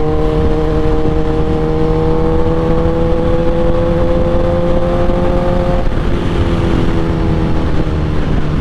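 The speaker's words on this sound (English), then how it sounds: "The bike is running normal, running good." A 2008 Suzuki GSX-R 1000 sport bike with velocity stacks and a new fuel pressure regulator idles steadily up close, a loud, even engine drone with a slight pitch shift near the end.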